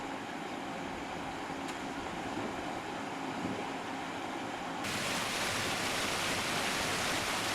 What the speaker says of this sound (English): These bamboo rafts float gently downstream, over the weir and into the calm waters below.